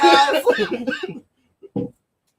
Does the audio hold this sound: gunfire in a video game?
no